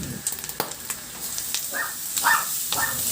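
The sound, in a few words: garlic sautéing in rendered pork fat in a pan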